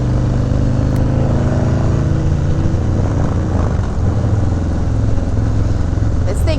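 A Harley-Davidson SE 131ci Heritage Classic Softail motorcycle runs on the road with a loud, steady, deep engine rumble and wind noise that hold throughout, with voices faintly underneath.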